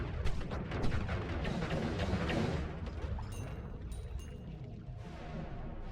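Noita, a pixel-based video game, with an enemy blown apart in a heavy, rumbling explosion of close, crackling booms. The blasts fade into quieter debris and a few brief bright tones.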